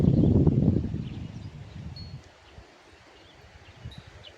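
A strong gust of wind roars across the microphone, loud at first and then easing into a softer steady rustle.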